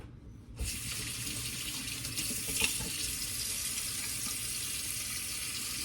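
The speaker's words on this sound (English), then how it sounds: "Give my hands a good wash here." Sink tap turned on to wash hands during baking, a steady close hiss of running water starting abruptly after a brief quiet moment and continuing evenly, with faint splashing and no talk.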